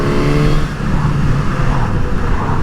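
A 2021 Suzuki GSX-S 1000 motorcycle engine drops two gears to fourth, a loud, close, smooth droning hum whose pitch falls and then settles as the bike slows.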